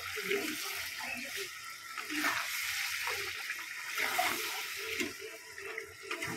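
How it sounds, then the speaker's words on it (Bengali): Water pours into a pan of chicken with a steady, moderately loud splashing rush that lasts throughout, while a faint voice talks underneath. "একটু জল দেব, জল দিয়ে ঢাকা দিয়ে দেবো।"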